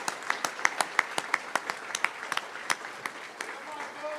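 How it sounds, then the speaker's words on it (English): Scattered claps and cheers ring out after a Colorado primary election night speech. The crowd applauds unevenly with distinct, irregular hand claps, some cheering voices mixed in, at moderate volume. "Please give him a round of applause for the extraordinary race that he ran."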